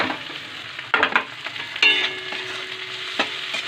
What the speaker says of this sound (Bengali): আমার আদা রসুন ভালো করে ভাজা হয়ে গেছে, এবার আমি টমেটোটা দিয়ে দেবো।